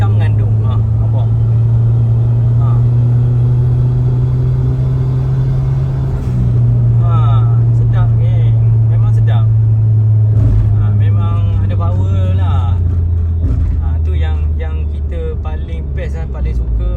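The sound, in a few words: Perodua Alza Turbo engine accelerating under light throttle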